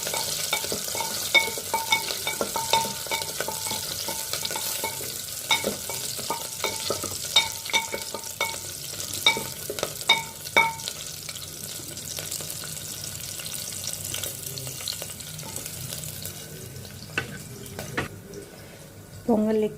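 Green chilies and ginger frying in a pan for a chutney, a soft continuous sizzle with bursts of spoon scraping and stirring clatter, a watery hiss in the background and a brief voice near the end.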